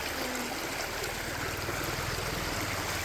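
Rising floodwater rushes with force at a riverside bathing ghat, a steady, dense broadband roar of flowing water with no pauses, close and constant throughout.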